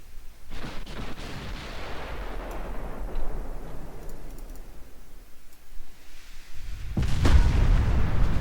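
Warship guns thunder in Ultimate Admiral Dreadnoughts, heavy booming salvos rumbling low and long, with a sharp loud blast near the end and scattered faint distant reports between.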